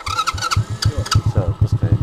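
A children's MOWGLI Hardy 8 quad bike cranking and catching, with a rapid close putter of engine pulses starting up, while people talk over it.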